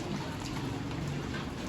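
Steady rain falling outdoors in a village, a dense even patter on surfaces with no breaks, moderately quiet and heard alone.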